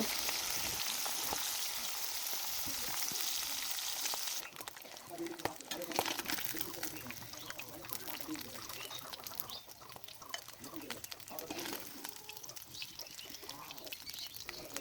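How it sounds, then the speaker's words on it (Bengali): Pangas fish pieces frying in oil in a karahi, a continuous crackling sizzle that shifts in texture partway through, close but fairly quiet, with faint voice traces underneath. "এখন মাছগুলো সব ভাজা হয়ে গেলে মাছগুলোকে একটা বাটিতে উঠিয়ে নিব"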